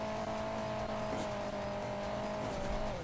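A supercar driving in Hill Climb Racing 2, a steady droning engine tone held throughout with a slight pitch change near the end, moderately loud and continuous, faint voice underneath.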